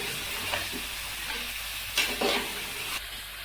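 Chicken browning with tomatoes in a pan for chicken korma, a steady close sizzle with a few soft stirring scrapes and clinks, no voices.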